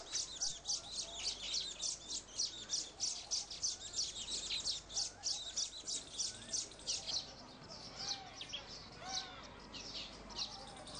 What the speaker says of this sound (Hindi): घोंसले बनाने में मशगूल नर समूह में गीत गाते हैं।